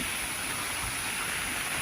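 Heavy rain falls steadily over rice fields in Bulacan, a dense unbroken hiss of water close by with no voices.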